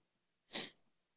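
A single short sneeze, sharp and breathy, standing alone against near silence.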